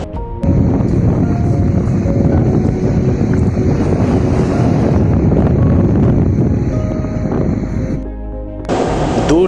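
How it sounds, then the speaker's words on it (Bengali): Loud, steady roar of wind and distant surf along a coral island shore, where fishing trawlers sit anchored at a jetty, blowing continuously with gusty microphone buffeting and a brief lull near the end. "দূর থেকে শুনতে পাওয়া যায় সাগরের গর্জন।"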